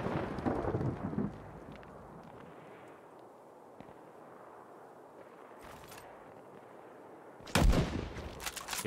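Gunfire in the World War II game Land of War during the 1939 German invasion of Poland: a loud burst of shots at the start, a long quieter stretch of distant rumble with faint cracks, then another loud close volley near the end.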